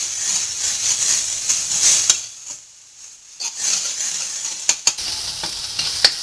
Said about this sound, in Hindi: प्याज को हम धीरे धीरे हिलाते रहेंगे, लाइट ब्राउन होने तक हम इसे भूनेंगे